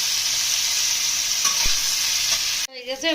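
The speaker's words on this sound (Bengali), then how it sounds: "আর এদিকে ঘি করলার আলুটাও লাল লাল করে ভাজা হচ্ছে" Potatoes and ghee korola frying in oil, stirred in the pan: a loud, steady hiss and sizzle with a few scraping knocks, ending suddenly into brief faint noises.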